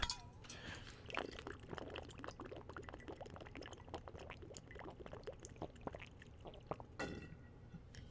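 Water being placed in Minecraft gives a faint, continuous watery pouring and bubbling sound with small splashy flickers, steady and quiet throughout.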